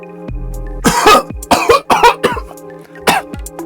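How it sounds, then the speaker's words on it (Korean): A person bursts into sudden coughing, several loud close coughs in quick clusters, with a low steady hum in the background. "아우 갑자기 기침이 나와."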